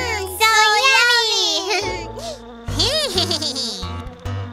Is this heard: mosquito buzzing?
yes